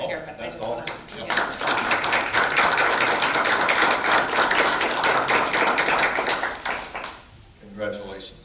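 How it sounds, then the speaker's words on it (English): An audience at a school board meeting applauds school staff with several seconds of dense, steady clapping that fades out, and a voice speaks briefly afterward. "just to give them an applause"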